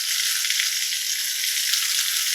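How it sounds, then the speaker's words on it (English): Steady, close sizzling of chicken sautéing and frying in a hot pan, a continuous crackling hiss with no talking. "But since we're sauteing them and frying them,"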